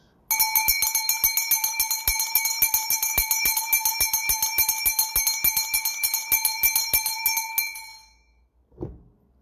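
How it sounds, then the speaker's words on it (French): A bell rings repeatedly in fast, steady strikes for about eight seconds, loud and bright with a shimmering sustained tone, then falls silent, followed by one brief low thump. "comme je sonne cette cloche, tu t'acceptes"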